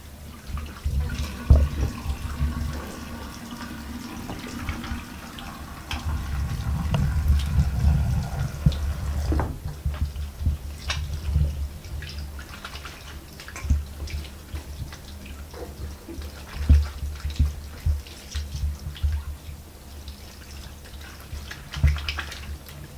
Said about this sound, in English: I shall first wash my hands.